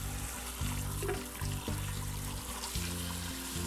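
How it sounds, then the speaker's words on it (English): Warm water from a kitchen sink sprayer rinsing soup bones for lotus root soup, a steady close hiss of spray with uneven splashing and clattering against the bones and sink. "I find it's easier to use the sink sprayer to rinse them thoroughly with warm water."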